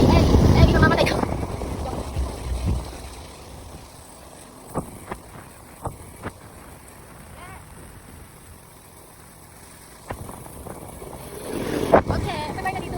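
Strong wind buffets an outdoor microphone near a boat on the water, a steady low roar with gusty bursts at the start and end, while people talk over it.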